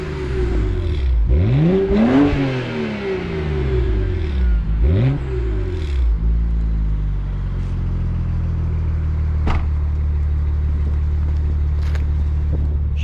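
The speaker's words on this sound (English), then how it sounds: "let's rev up this thing real quick." A BMW 135i with the N54 engine revved at a standstill, two sharp throttle blips climbing and falling back, then a steady, loud idle rumble, close by with no talk.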